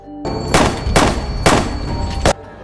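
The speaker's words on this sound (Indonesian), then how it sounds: "Loren segera saja mencabut pistolnya hingga beberapa peluru yang telah ditembakkan oleh Loren." Four loud pistol shots ring out in quick succession in a horror film scene, each a sharp crack with a short echoing tail, the spacing roughly even and no voices over them.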